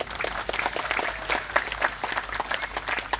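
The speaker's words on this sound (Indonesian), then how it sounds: "Tepuk tangan untuk mereka semuanya." A crowd at a Maulid Nabi Muhammad SAW celebration applauds steadily, the clapping even and moderately distant throughout, with no voices standing out.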